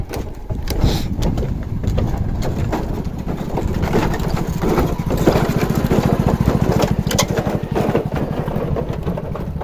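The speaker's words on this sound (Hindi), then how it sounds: "यहाँ पर एक बाइक पार हो रहा है" A motorbike engine chugs loudly and steadily close by as it crosses a bridge over the Koel River in Hamirpur, with rattling and creaking over a rough surface throughout.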